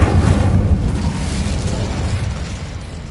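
Incendio fire spell cast in Hogwarts Legacy, a loud burst of fiery whooshing and crackling that opens strongly, then settles into a steady rumbling roar lasting a few seconds.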